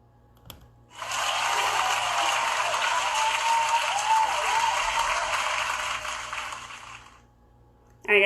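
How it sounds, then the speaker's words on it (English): Audience applause at a film festival youth panel swells in about a second after a brief thump, holding as a dense, steady wash of clapping for several seconds before fading, with a sudden loud burst right at the end. "you just enjoy the sounds of clapping for a moment"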